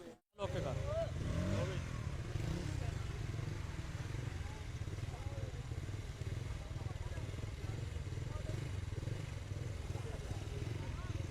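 Several motorcycles rev loudly and continuously at a village strength stunt in 258 GB Toba, where a boy holds back four motorcycles while lifting a sack in his mouth. A steady, close engine roar with faint voices underneath.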